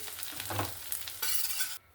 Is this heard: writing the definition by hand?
no